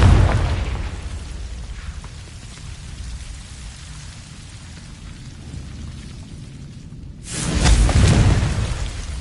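Confringo fire spell blasts in Hogwarts Legacy: a loud burst at the start, a quiet stretch, then a second heavy explosive boom near the end, with no talking.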